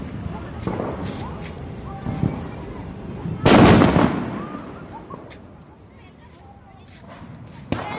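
A Diwali firecracker goes off with one loud, sharp blast partway through, followed by scattered smaller pops and crackles amid people chatting nearby.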